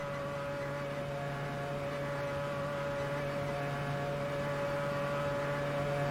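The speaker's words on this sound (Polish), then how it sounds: "Silnik już na maksymalnych obrotach utrzymuje tempo." A Mazda 787B race car engine is held at maximum revs, producing a constant, fairly faint droning whine with no change in pitch.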